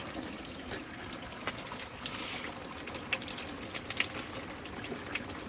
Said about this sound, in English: the water is just trickling through all of those holes